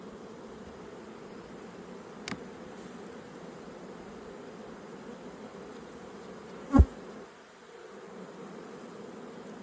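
Honeybees buzz steadily around an open hive during an inspection of a brood-heavy colony, a continuous close drone broken by a couple of sharp knocks.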